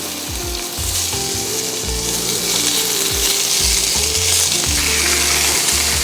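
Sliced beef for Philly cheese steak sliders sizzles loudly and steadily in a pan, with a low rumble and a few scraping, clattering moves of a utensil underneath the hiss.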